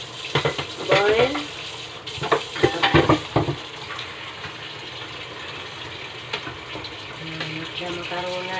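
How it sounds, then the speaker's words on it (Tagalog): Cooking cream mixed into pasta in a pot, with a wet stirring churn and clatter that continues under a steady simmer; a voice talks over the first few seconds. "Okay, enough cream, cooking cream, and then mix, then boil."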